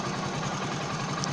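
Hero HF Deluxe motorcycle engine idling at 800 rpm, a steady close-up mid-pitched putter that runs evenly without change for a short moment.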